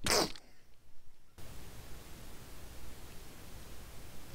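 One short, sharp sneeze bursts out at the very start, followed by a faint, steady background hiss.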